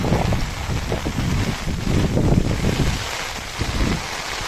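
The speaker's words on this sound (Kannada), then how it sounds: "ತುಂಬ ಗಾಳಿ ಮಳೆ ಬೆಳಿಗ್ಗೆನೂ ಇದೆ." Heavy monsoon rain and gusting wind at Talakaveri near Bhagamandala, where floodwater covers the road, roar steadily and loudly, with wind buffeting the microphone throughout and no voices.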